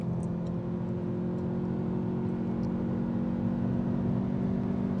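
Lexus UX 250h hybrid car under full-throttle acceleration, heard from inside as a steady, even engine and motor whir with a constant tonal hum that holds without rising wail for several seconds, with no talk.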